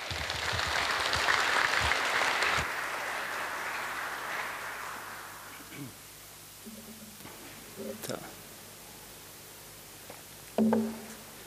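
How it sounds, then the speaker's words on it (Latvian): A lecture audience applauds to welcome a speaker named Franka at a talk on the 2012 Nobel Prizes in literature, medicine and physics. The clapping is moderately loud for the first few seconds, then fades out to scattered rustles. "Lūdzu, Franka, vārds jums, saņemiet ar aplausiem."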